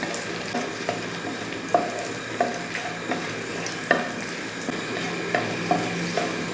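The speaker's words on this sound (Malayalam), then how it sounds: "ഇപ്പം മുളകൊക്കെ ഒന്ന് വറുത്തിട്ടുണ്ട്" Dried red chilies, including Kashmiri chilies, frying in hot oil in a pan for a Kerala fish curry: a steady sizzle broken by regular sharp clinks of a spoon stirring, close and alone.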